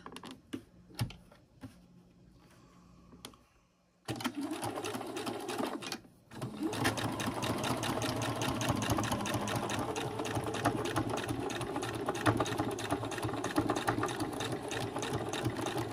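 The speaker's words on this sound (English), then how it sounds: "I like to slow down a little bit when I'm sewing over the zipper" Sewing machine stitching a backpack seam over a zipper, a few soft clicks and a pause, then a steady, loud, continuous rapid needle clatter running close up for about ten seconds.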